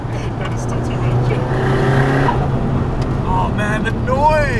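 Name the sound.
Nissan S15 Silvia big turbo SR20 engine on touge run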